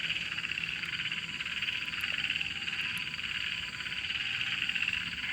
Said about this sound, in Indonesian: Makin kenceng suara kodoknya weh.